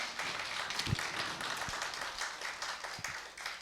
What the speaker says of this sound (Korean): 여러분 큰 격려의 박수를 한번 부탁을 드립니다.